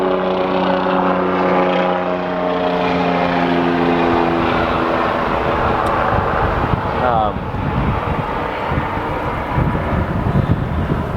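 Helicopter flying overhead, a loud, steady rotor drone with a low harmonic hum that shifts in pitch as it passes, running the whole stretch with wind buffeting the microphone and no talk.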